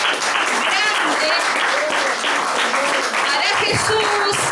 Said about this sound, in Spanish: Así que denle un aplauso grande